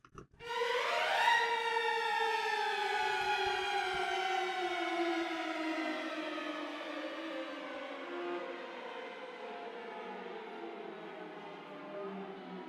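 A quick rising orchestral sweep climbs, then long tones slowly slide downward over a sustained low drone, fading gradually without any voices.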